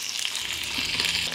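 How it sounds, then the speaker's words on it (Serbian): Chicken drumsticks hiss in hot oil in a pan, a dense, even, close sizzle that holds steady for a brief moment with no voices over it. "Na zagrejano ulje spuštam piletinu i pržit ću je po 3 minuta sa obe strane."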